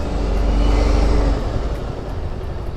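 A car engine revs loudly and steadily for about a second and a half, then the roar eases into a lower, rougher drone that carries on to the end.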